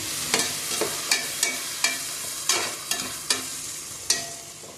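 Tomatoes sizzle and are stirred in hot oil with mint and coriander for mushroom biryani, with repeated sharp scraping strokes of a spoon against the pan about every half second over a steady close frying hiss.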